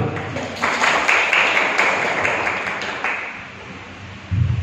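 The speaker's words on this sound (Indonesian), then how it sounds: "Ya, tepuk tangan dulu." Students at a high school traffic-safety session burst into loud, sustained clapping that swells and then slowly fades, with faint voices underneath.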